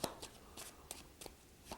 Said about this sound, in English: Here's your in-jog shuffle.